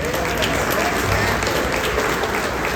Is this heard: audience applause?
yes